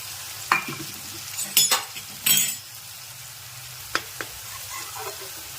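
Cumin, tomatoes and spices frying in a pan make a soft steady sizzle, with a few loud spoon clinks and scrapes near the start and two lighter taps later on.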